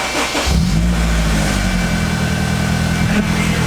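A turbocharged Honda Integra engine on new engine mounts catches and settles into a steady, close, rumbling idle that holds evenly to the end.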